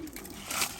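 Racing and Birmingham roller pigeons cooing in a loft, one brief soft coo rising close by over faint background rustle.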